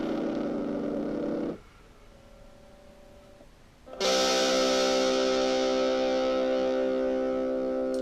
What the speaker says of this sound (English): I am doing this through a little tiny 9-volt amp.